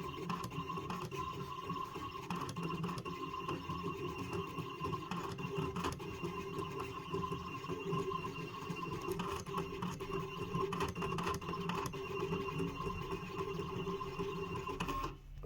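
A Siser Juliet vinyl cutter slices permanent vinyl, giving a steady, continuous mechanical whir and buzz with faint scratchy carriage movement, running nearby and uninterrupted, with no talking.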